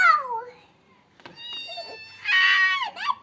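A cat meows nearby on a street in Jordan, with a falling, drawn-out cry and a higher, strained call after it. A person's voice is also heard.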